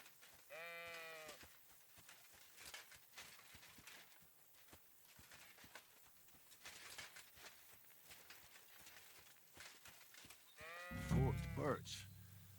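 A sheep in Kingdom Come: Deliverance II bleats twice, once near the start and again louder near the end, over quiet footsteps or hoofbeats.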